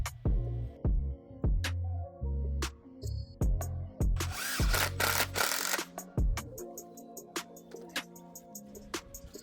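A power drill drives screw holes into 2x4 lumber for seating planks, giving short repeated bursts of motor whir in a stop-start rhythm, close and moderately loud, with a louder grinding stretch in the middle.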